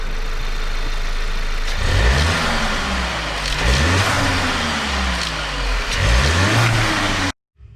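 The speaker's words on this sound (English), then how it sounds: "muffler delete that I put on actually sounds pretty good" A 2019 VW Tiguan engine with an APR muffler delete revs hard three times, each rise a throaty, raspy roar from the open exhaust, settling back to a rumbling idle between bursts.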